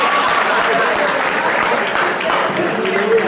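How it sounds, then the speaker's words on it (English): An audience at a leadership keynote bursts into steady applause, a dense wash of clapping that holds at full strength throughout, with a voice or two faintly audible underneath. "give him a round of applause"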